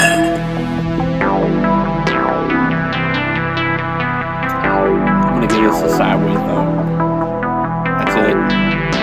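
Beer glasses clink together in a toast among a small group, a few sharp ringing chinks over steady background chatter and music.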